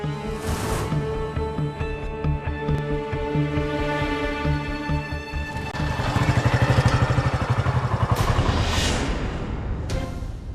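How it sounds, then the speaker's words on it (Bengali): A motorcycle engine rumbles in the background, swelling into a louder buzzing throb midway before easing off, with tonal music playing throughout. "বাইকের শব্দ হলো না?"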